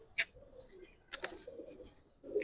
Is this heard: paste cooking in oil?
no